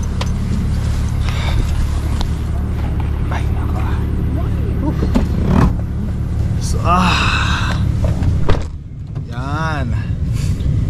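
A car drives off onto a highway near Edmonton, Alberta, with a steady engine and road rumble throughout and people talking over it.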